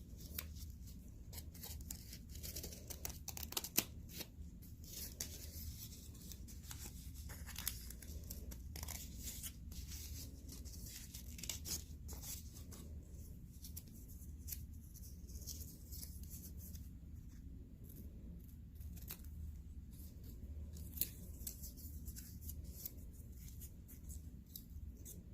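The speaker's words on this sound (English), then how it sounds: "Cut some more triangle shapes, so hopefully they're all more or less the same size." Scissors snip construction paper into triangle shapes for a CD weaving craft, quiet irregular cuts and rustling paper handled close up, with no talk.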